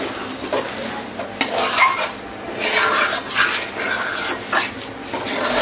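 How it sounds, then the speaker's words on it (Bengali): A spoon stirs a banana flower (kanthali banana mocha) filling with roasted peanuts in a pan, making loud, uneven scraping strokes against the metal, with a light sizzle and clatter between pushes and nobody speaking. "এখন একটু নাড়িয়ে চাড়িয়ে নেব"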